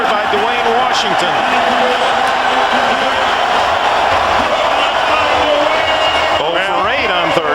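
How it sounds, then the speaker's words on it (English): A dense, roaring stadium crowd at the 2001 AFC Divisional playoff game between the Baltimore Ravens and Pittsburgh Steelers, cheering loudly and continuously while a commentator talks over it. "the crowd is back into the game"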